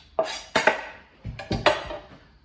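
Spoon scraping and clinking in a bowl while salsa is mixed for tapas, several quick clattering strokes in two bursts, close and fairly loud with no talk.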